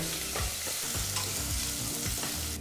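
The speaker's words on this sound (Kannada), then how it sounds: "ಈಗ ಮೀಡಿಯಂ ಫ್ಲೇಮ್ನಲ್ಲೇ ಎರಡು ನಿಮಿಷ ಈ ಎಲ್ಲ ಪದಾರ್ಥನೂ ಚೆನ್ನಾಗಿ ಫ್ರೈ ಮಾಡ್ಕೋಬೇಕಾಗತ್ತೆ" Onion, curry leaves and spices fry in oil on a medium flame for a ragi-ball sambar, a steady close sizzle with repeated scraping stirs and no talking.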